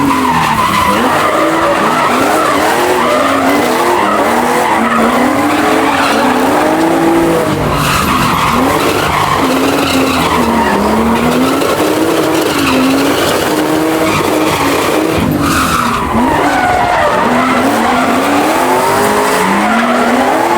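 A drift car slides and skids with loud, continuous tire squeal, and the pitch wavers up and down as the engine roars under it. The sound is close and sustained, with no talking over it.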